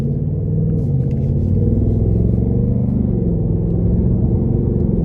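A 2025 Ford Mustang GT Premium with a V8 accelerating hard, its engine revving in a loud, deep, continuous roar that builds and holds throughout, heard from inside the car with no talking.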